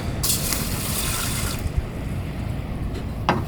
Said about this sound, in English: So top this up full of water,